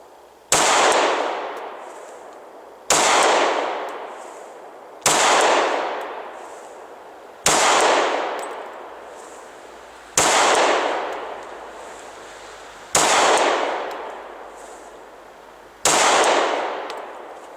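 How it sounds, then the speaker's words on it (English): Seven single gunshots from a Glock 23 Gen 4 pistol at an outdoor target range, each a loud sharp crack with a ringing decay, fired at a slow even pace about two seconds apart. "press a shot."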